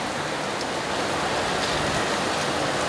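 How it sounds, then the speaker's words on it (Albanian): Hail comes down during a daily storm, a dense, even rush of impacts with occasional sharper ticks, steady and close throughout with no voices. "Ja, filloi dhe breshi."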